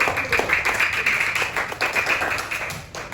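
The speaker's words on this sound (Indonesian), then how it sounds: "ada tepuk tangan dulu" A class of fifth-grade schoolchildren claps together in a classroom, a dense, steady patter of many small hands that holds at even loudness for a few seconds without any talking.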